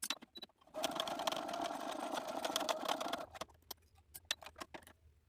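A home sewing machine stitching fleece fabric for a plush fox toy: a close, steady mechanical whir runs for about two and a half seconds, framed by scattered clicks and handling taps before and after.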